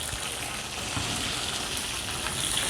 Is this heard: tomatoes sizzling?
yes